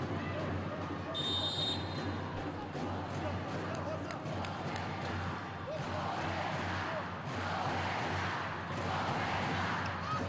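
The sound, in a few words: fans cheering volleyball setter Roberta as she serves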